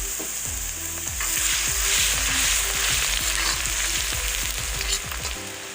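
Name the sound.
ginger garlic paste frying with onions in a pan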